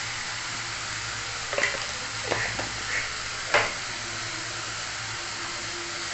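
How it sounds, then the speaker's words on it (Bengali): Spice paste for an egg curry sautéed in a pan with a splash of water, a soft steady sizzle broken by a few scraping stirs and bubbling bursts. "সামান্য জল দিয়ে মশলাটাকে কষিয়ে নিলাম"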